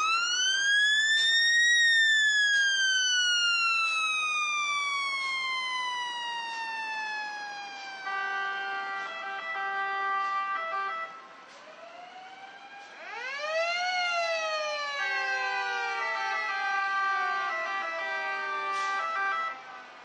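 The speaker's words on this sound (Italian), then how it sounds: "La sirena ha ricordato alla gente che oggi è il momento del ricordo e della memoria" Emergency vehicle sirens at a commemorative procession in Avellino marking the anniversary of the Irpinia earthquake: loud wailing sirens that sweep up and fall in long glides, then cut to steady alternating tones before rising again, continuing alone for the whole stretch.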